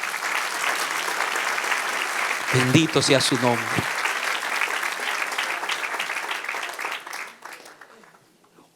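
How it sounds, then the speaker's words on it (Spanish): Church congregation applauding during a Spanish-language sermon, a broad wash of clapping that swells and then fades out, with a voice speaking over it midway. "Dale un aplauso al Señor."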